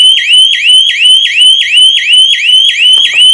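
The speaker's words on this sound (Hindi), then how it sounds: "अब किसी ने मान लो दरवाजा खोला, ठीक है, तो देखिए तेजी से अलार्म बजेगा।" A GSM security siren set off by a door sensor wails loudly and close, a rapid repeating electronic whoop about three times a second, with a brief clatter near the end.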